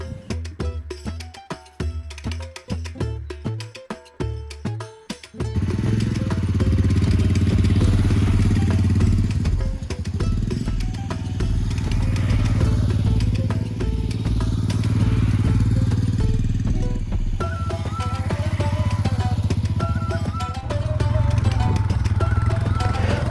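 A motorcycle engine rumbles steadily at close range as it rides a road near Kodaikanal, its drone rising and falling, after a few seconds of rattling, thumping noise.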